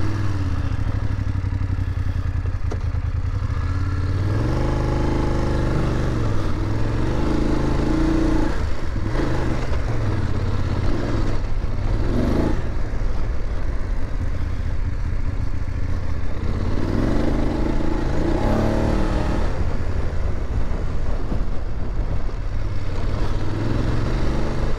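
A 2022 BMW F850GS Adventure motorcycle ridden off-road in enduro mode, a steady engine drone that rises and falls with throttle, alongside constant wind rush and rattling clatter from the rough ground.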